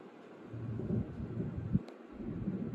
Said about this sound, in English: I wanted to stop and capture this storm on video